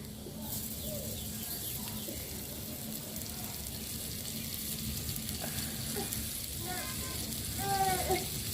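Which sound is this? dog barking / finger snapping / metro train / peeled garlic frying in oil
peeled garlic frying in oil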